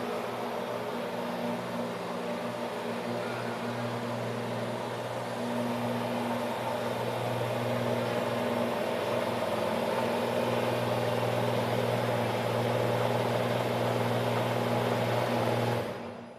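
The final ProDrive-built Aston Martin DBR9 GT1 race car runs its engine in a steady, loud, droning idle for about sixteen seconds before the sound cuts off abruptly.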